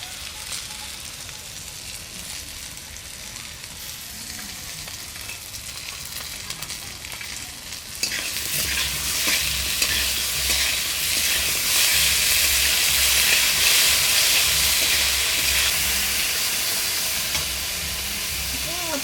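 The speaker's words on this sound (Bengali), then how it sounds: "মশলা ভাজা হয়ে গেছে আমার।" Chili, ginger and cumin paste hits hot oil in a pan with fried vegetables for a rui fish curry. A quieter background gives way to a loud, continuous sizzle that surges partway through and holds steady.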